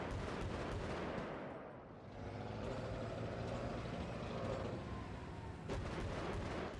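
Tank main cannon fires in Battlefield Bad Company 2 amid a dense, loud wash of battle noise: a heavy blast with a rumbling tail, then sustained engine and gunfire din, with sharp reports near the end.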